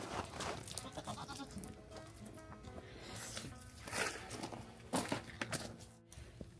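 Goats on a snowy farm during a winter storm in southern Kentucky bleat several times in short, irregular calls nearby, with faint shuffling and footsteps between them.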